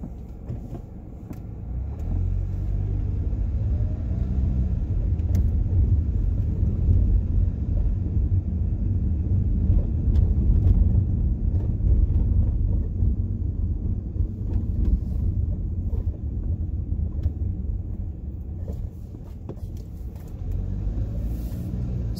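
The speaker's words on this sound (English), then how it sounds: "I'm driving from Brooklyn Center to Shakopee" Car driving on a road between Brooklyn Center and Shakopee on a June Saturday, a heavy continuous low rumble of road and engine noise from inside the vehicle that swells midway and eases toward the end, with no talking.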